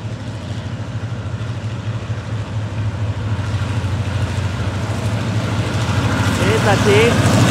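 A deep Hitachi diesel locomotive engine, number 4520 hauling a Bangkok–Sungai Kolok rapid train, rumbles steadily and grows gradually louder as it nears, with a low throbbing hum and some voices in the background.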